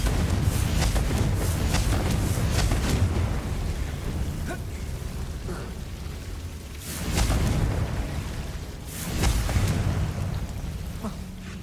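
Confringo blasting spell in Hogwarts Legacy, a string of deep booming explosions, with big bursts standing out near the middle and toward the end over a rumbling, crackling background, and no talk.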